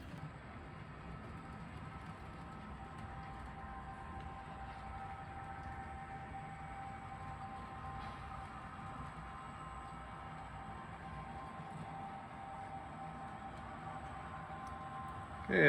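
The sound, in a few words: model train running on layout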